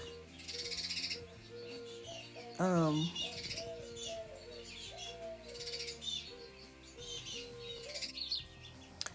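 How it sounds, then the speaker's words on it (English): Birds chirp and coo outside an open door in a warm room, a loud sweeping call standing out early, then softer repeated tweets and coos continuing under a brief murmur from a nearby person. "these birds are driving me nuts"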